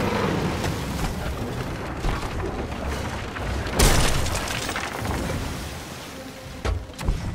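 Ship cannon fire in Sea of Thieves during a skull ship encounter: a deep boom over a steady roar of sea and wind, followed by a few sharper bursts near the end.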